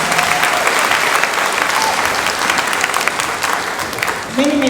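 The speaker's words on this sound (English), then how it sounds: "Let's have another round of applause for this wonderful chorus." Audience applause for a children's chorus at a school dedication, a loud, sustained roar of clapping from a crowd, easing slightly near the end as a voice rises over it.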